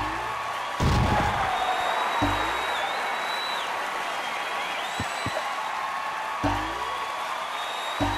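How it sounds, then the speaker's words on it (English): Crowd cheering and applause in the racing obstacle game Doritos Crash Course, a steady broadband roar with occasional slams and impacts rising through it, and brief game tones above. "Now, these people are still cheering for me."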